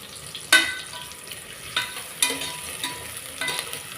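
Sliced onions frying in oil with green chilli and curry leaves for a yam biryani, a steady sizzle broken by a few sharp stirring scrapes and spatters, close and fairly loud.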